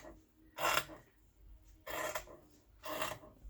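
Scissors trim the edge of a paper lapbook cover in three separate rasping cuts spaced about a second apart, close and fairly quiet.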